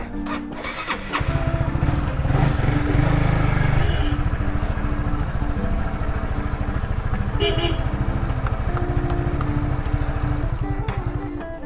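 An older motorcycle engine starts and then runs steadily close by, with a loud, continuous, pulsing rumble and some sharper revving bursts.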